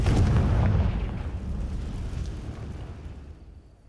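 A Confringo spell blast in the Hogwarts Legacy video game: one loud, deep boom at the start, followed by a rumbling tail that slowly fades over a few seconds.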